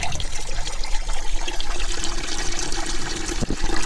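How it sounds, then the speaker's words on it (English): Distilled water draining and trickling out of a Sea-Doo personal watercraft's cooling system during a coolant change, a steady splashing pour that runs continuously without talk. "we can see the remaining distilled water coming out"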